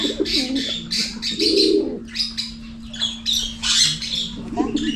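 Pigeons squawk and coo repeatedly at a busy outdoor pet market in Malabon, with bird calls overlapping a steady low hum and brief background voices.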